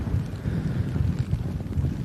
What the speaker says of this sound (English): And it's very windy as well